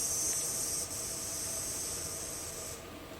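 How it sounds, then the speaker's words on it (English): Male cicadas sing in a provincial park woodland, a steady high buzzing drone that holds evenly and then drops off near the end. "So that sound you just heard are male cicadas."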